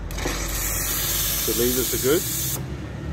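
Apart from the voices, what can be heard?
espresso machine steam nozzle hissing, Nuova Simonelli Appia 2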